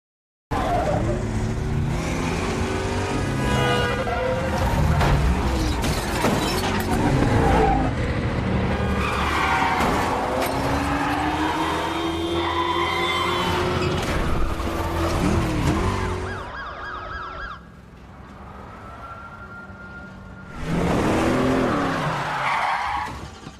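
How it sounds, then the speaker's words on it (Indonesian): Cars tear through a film car chase with loud squealing tires, skids and roaring engines that rise and fall in bursts. A brief lull comes near the end before another screeching surge, and no one speaks. "Dan terjadilah kejar-kejaran antara Richard dengan mobil yang ditumpangi oleh Charlie tersebut."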